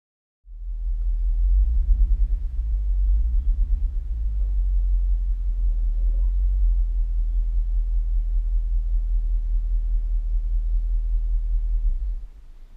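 Road traffic rumbling from inside a van stuck in slow traffic, a loud continuous low engine and road drone that holds steady for the whole stretch with no talking.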